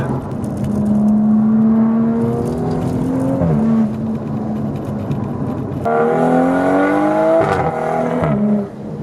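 A BMW M235i climbing through the gears on a Southern California canyon road, its engine note rising in pitch, dropping sharply at an upshift, then winding up again, loud and close with no talking.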